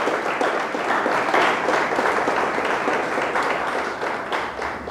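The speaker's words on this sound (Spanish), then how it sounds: "Dele fuerte el aplauso a Dios. Déselo fuerte, fuerte," A church congregation applauds, a dense, loud, sustained wall of clapping from many hands that holds steady throughout without pause.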